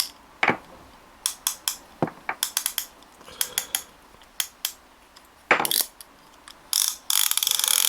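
A saltwater jigging big-game fishing reel's clicker ratchet, heard close up as sharp mechanical clicks in irregular bursts, some rapid and buzzing, others single ticks, with short pauses between.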